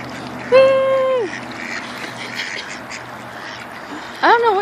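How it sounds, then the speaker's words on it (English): Mallard ducks quacking at a park: one drawn-out, nasal quack close by, then quiet ambient noise, and a second sharp quack near the end. "These are mallards."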